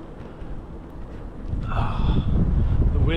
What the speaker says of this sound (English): The wind doesn't know what it wants to do.